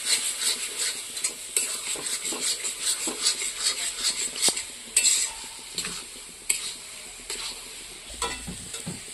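Paneer curry sizzling in a pan while a utensil stirs and scrapes it in quick, repeated strokes. The strokes sound close and continuous, with occasional clinks of metal against the pan.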